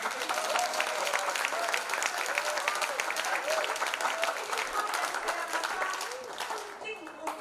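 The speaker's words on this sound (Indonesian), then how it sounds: "Bisakah tepuk tangan untuk peluncuran" A crowd applauds the launch of a new study centre at a church gathering, sustained even clapping that carries on for several seconds before thinning toward the end, with a voice speaking faintly over it.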